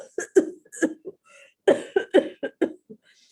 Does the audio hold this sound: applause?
no